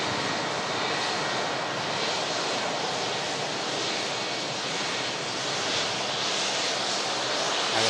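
A 36-year-old airliner, first registered in February 1988, makes a continuous, wide engine roar at an even, fairly loud level for several seconds with no voices.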